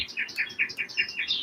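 Birds chirp in a rapid, repeated series of bright tweets, about five calls a second, steady and fairly close, with no voices, on a sunny but chilly day.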